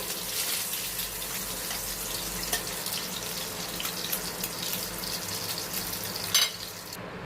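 Continuous sizzling of rohu fish pieces frying in oil fills the clip at a steady level, with a short clatter near the end; no talking.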